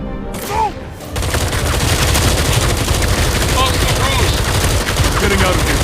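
Rapid automatic gunfire in a Batman: Arkham Shadow cutscene, a brief burst that swells into sustained, dense shooting filling the scene, loud and close throughout.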